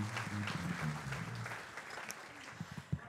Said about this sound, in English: How about another big round of applause for Mr.